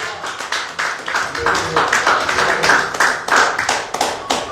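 A church congregation at a mission service claps in a fast, steady rhythm, many hands close and loud, sustained throughout with a voice faintly mixed underneath.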